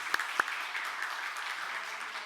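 A church congregation claps faintly and at a distance, two sharp claps opening a soft, continuous patter of applause.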